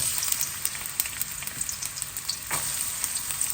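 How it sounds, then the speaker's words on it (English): Onions frying in light olive oil in a hot pan crackle and sizzle steadily up close, with scattered pops and occasional stirring and no voices. "So nice hot pan. I am using a light olive oil, good glug of it. And then I'm going to add the onions."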